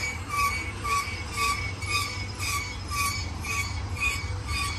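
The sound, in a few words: BNSF stack domestic intermodal freight train approaching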